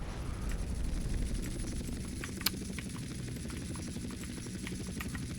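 A helicopter in Grand Theft Auto San Andreas makes a steady, close rotor drone with a rapid chopping flutter, and one sharp click cuts through partway.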